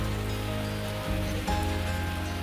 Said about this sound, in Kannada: ಅಷ್ಟರಲ್ಲಿ ಏನು ಜೋರು ಮಳೆ ಬಂದುಬಿಡ್ತು.